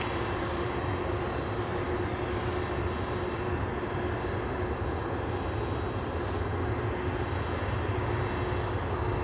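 Steady, loud broadband roar of an aircraft engine at Anchorage airport, continuous and close throughout without talk.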